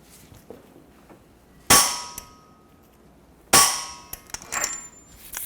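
Two loud, ringing metallic strikes of a hammer on a punch stake the axle nut on the front hub of a 2014-2019 Toyota Highlander. Each hit rings and decays, followed by lighter taps and clinks nearby.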